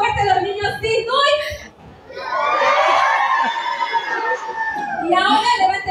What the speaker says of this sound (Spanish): Voy a escuchar un grito fuerte de todos los niños y niñas